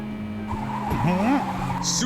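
In the Super Drift 3D racing game, a car drifts with a long rising and bending tire squeal over a droning engine, while someone talks excitedly over it.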